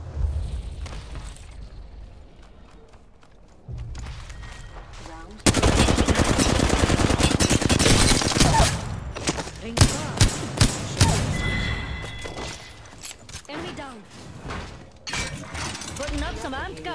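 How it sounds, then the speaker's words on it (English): Gunfire in a shooter video game, starting quiet, then a loud sustained automatic burst followed by sharp separate shots and rattling fire, with a voice speaking in between. "Shooting at me."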